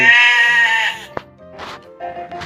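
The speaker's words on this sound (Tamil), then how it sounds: "ஆட்டுக்குட்டி" A young goat bleats loudly up close, a long wavering cry followed by a sharp click and a few shorter bleats.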